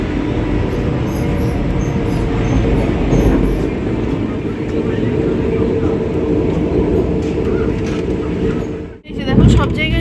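A Vande Bharat express train runs at around 130 km/h, heard from inside as a loud, continuous rumble and rattle that briefly dips near the end before surging back.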